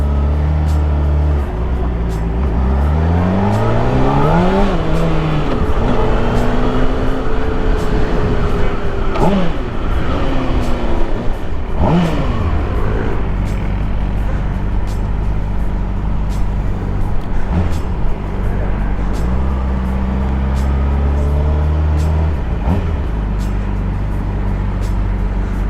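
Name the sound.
Honda CBR600RR 600cc motorcycle riding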